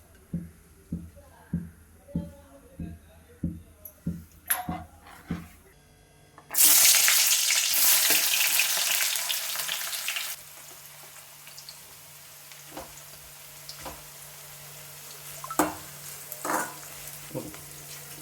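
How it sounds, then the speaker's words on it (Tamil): Marinated chicken goes into hot oil after a run of light knocking, bursting into a loud sizzle that settles into a softer frying crackle with occasional taps in a home kitchen. "எடுத்து எண்ணெயில் ஃப்ரை பண்ணிவிட்டு"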